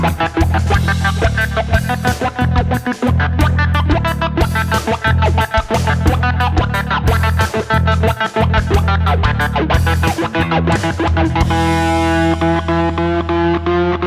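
A heavily distorted 1981 left-handed Gibson Les Paul Custom electric guitar plays chugging riffs and chords with effects, loud and continuous, ending on a sustained ringing chord.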